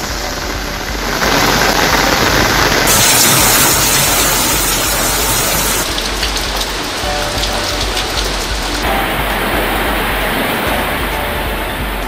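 Heavy rain in Perambalur pours as a loud, steady hiss of countless drops, unbroken for the whole stretch with slight shifts in tone and no voices.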